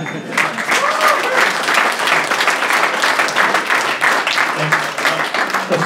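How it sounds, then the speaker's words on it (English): An audience at a startup pitch night gives a warm round of applause after a first pitch, dense and continuous clapping that holds steady throughout. "Another round of applause."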